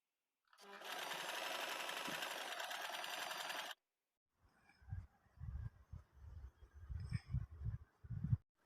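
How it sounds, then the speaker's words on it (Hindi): A sewing machine stitches a double-folded fabric strip for a kurti in one continuous close burst of rapid mechanical chatter, followed by a pause and softer scattered handling thumps. "इसे मैं डबल फोल्ड करके सिलाई लगाऊंगी"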